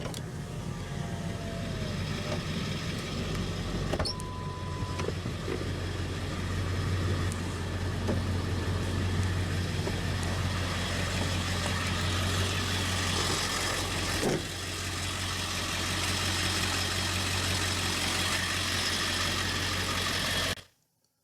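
A 2000 Ford F-350 Super Duty Lariat Crew Cab with the Power-Stroke 7.3-liter turbo diesel V8 idles, a steady, rough, clattering diesel rumble heard up close for about twenty seconds before it cuts off at the end.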